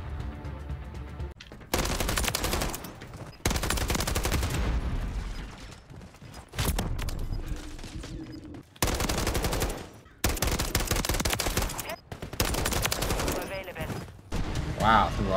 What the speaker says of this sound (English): Wow, through all that gunfire,